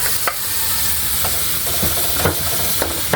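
Tomatoes and ginger sizzle in a frying pan as they are stirred, a continuous hiss broken by several sharp utensil scrapes and clacks.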